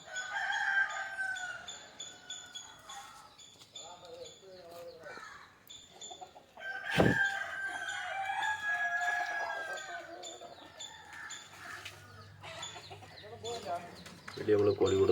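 Free-range country chickens in a rural yard at morning feeding time with bran, clucking and a rooster crowing loudly midway, over faint background voices and household sounds.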